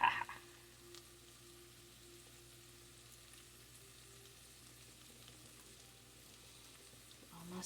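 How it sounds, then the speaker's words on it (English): Soft, steady sizzle of breakfast taco filling frying in a pan, slightly sticking, continuous and fairly quiet throughout with a faint low hum beneath. "A bit sizzling, kind of sticking."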